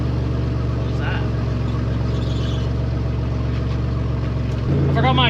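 A 1951 car engine running with a loose exhaust and a missing exhaust clamp; a close, steady rumbling drone with dense low harmonics that shifts in tone near the end.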